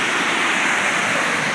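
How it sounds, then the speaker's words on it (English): Steady, loud rushing roar of water pouring down a dam spillway after a rainstorm, a broad continuous wash of sound with no voices. "But that is our spillway, and she is running."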